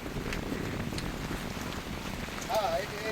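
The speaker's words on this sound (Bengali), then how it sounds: "দমকা হাওয়া, ঝড়ো হাওয়া, বজ্রপাত, সাথে একটানা বৃষ্টি 4-5 ঘন্টা ধরে" Steady heavy rain pours down during a Kalbaishakhi storm in the Sundarbans, a constant close hiss with gusts of wind and a faint distant tone near the end.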